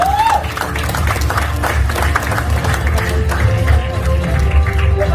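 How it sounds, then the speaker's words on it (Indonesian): Loud, sustained applause from a seated audience fills an indoor company event hall, dense and steady throughout, with crowd murmur and a voice faintly mixed in. "Kita kasih kesempatan tepuk tangan yang sangat luar biasa"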